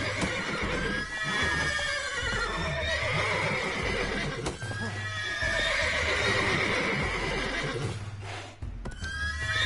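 Several panicked horses neigh and whinny repeatedly in a stable in The Witcher 3, shrill cries overlapping with stamping hooves, loud and close throughout.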